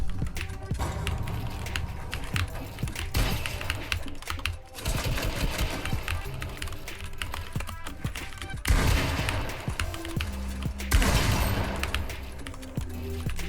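HK Gaming GK61 optical keyboard with Gateron Optical Yellow switches clattering in rapid, dense bursts of keypresses during Fortnite box fighting, mixed with loud game sounds throughout.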